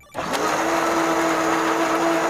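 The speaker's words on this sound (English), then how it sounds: "we're gonna pulse it until it's smooth" A blender starts abruptly and runs at a steady high whine, pureeing taco ingredients with water, loud and close with no talking over it.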